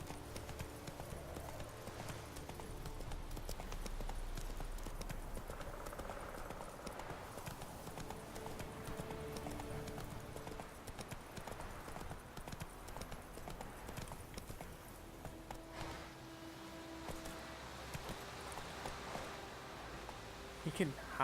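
Roach the horse gallops in The Witcher III, a steady rhythmic clip-clop of hooves at close range over a continuous game soundscape with music, running for most of the stretch.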